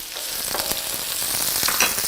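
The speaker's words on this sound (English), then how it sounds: "let's add the onions. Ooh, love the sizzling." Onions sizzle and fry in a hot pan, a steady close crackling hiss with a few stirring clicks and no talking.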